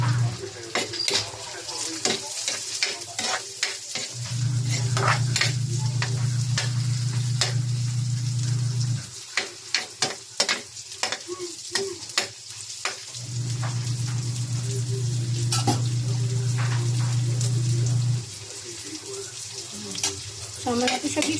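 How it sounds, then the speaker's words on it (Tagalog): Green chili sautéing in a pan for a spicy home-style dish, a steady close sizzle broken by clinks and scrapes of a utensil stirring against the pan. "ilalagay na natin yung siling verde. Kasama natin sa gisa."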